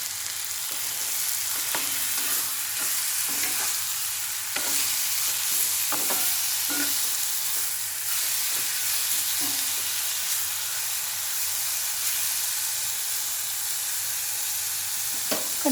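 Vegetables fry in a pan with a steady, close broadband sizzle. Scraping and stirring clicks from a spoon or spatula break in at irregular intervals, and nobody speaks.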